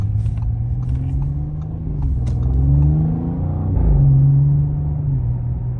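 A 2021 Audi S7 accelerates hard from inside the cabin, a loud, steady engine rumble rising in pitch through two surges with no talking.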